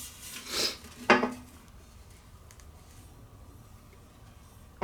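DEI heat wrap is wound around an exhaust pipe: two short, close rustling scrapes of the stiff fabric in quick succession, then quiet handling for the rest.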